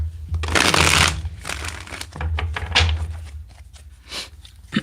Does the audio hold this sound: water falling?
no